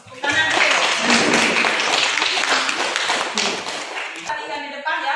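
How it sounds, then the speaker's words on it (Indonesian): A classroom of students claps together in a burst of loud, fairly steady applause that fades toward the end, with voices mixing in as it dies down. "Tepuk tangan dulu."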